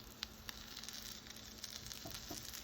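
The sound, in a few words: butter melting and sizzling in olive oil in a pan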